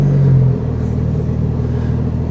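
Race car engine lapping the Magarigawa private track in Japan, a loud steady low rumble with a brief higher rev hum at the start before settling into a constant drone.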